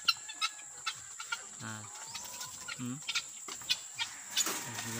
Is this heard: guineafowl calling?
yes